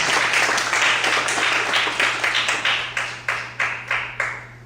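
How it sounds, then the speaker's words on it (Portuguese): Congregation applauds during a Portuguese-language church service, a full room of hands clapping steadily before the claps thin into separate, spaced strikes that fade, with a steady low hum underneath. "Vamos aplaudir o Senhor essa manhã?"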